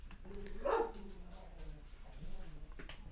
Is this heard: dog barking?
yes